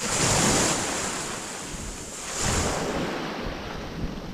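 Waves wash onto a secluded beach of colored stones, surging loud at the start and again midway, with wind buffeting the microphone throughout.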